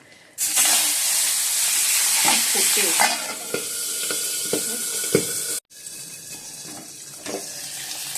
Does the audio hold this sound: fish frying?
yes